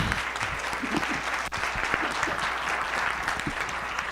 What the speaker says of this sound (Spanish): Un aplauso más fuerte, por favor